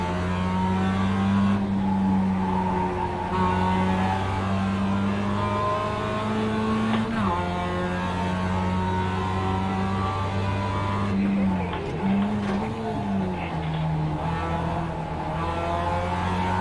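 Race car engines drone and rev steadily through a racing video game, with shifting pitch and brief gear changes, loud and continuous with no talk.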